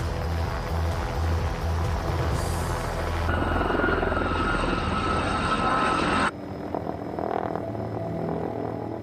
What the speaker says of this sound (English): An autogyro needs forward speed to keep the rotors turning and stay in the air.